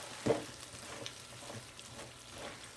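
A spoon stirs peanut brittle mixture with vanilla in a pan, soft scraping and faint sizzling strokes at a slow, uneven rhythm, close and quiet.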